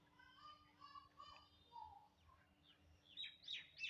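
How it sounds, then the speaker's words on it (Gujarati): Sparrows chirp outside near a building, their faint, scattered tweets drifting in from a distance over a quiet room, with a few livelier calls toward the end. "ચકલીઓનો અવાજ આવે છે"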